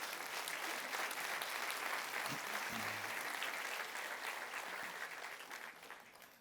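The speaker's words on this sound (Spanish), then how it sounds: "déle un aplauso al Señor" A church congregation claps in a full, steady burst of applause with a faint voice briefly audible beneath it, gradually tapering off near the end.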